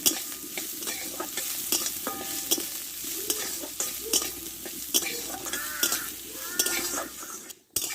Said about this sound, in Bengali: একটু লালচে করে ভেজে নিব